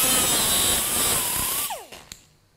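Power sander grinding a spacer flush over a bicycle spoke during oversized spoke making, a continuous high whine that runs loud and steady before the motor cuts off and winds down.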